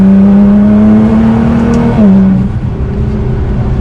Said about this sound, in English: as it carries the RPMs, the speed carries so much, and it really takes off